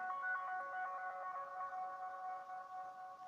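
A phone's loud alert tone, triggered remotely by Find My Device's play sound feature, rings out steadily and close by in a sustained melodic pattern with no talking.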